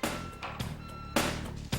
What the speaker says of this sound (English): Debbie, who is the driver of the truck, backs her truck up to the loading hopper.